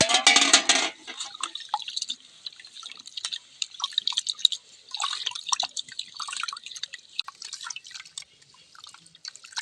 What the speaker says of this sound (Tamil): இது நம்ம காட்டு அரிசி இப்படி தண்ணி ஊற்றி கழுவுனா வெள்ளையாக இருக்குது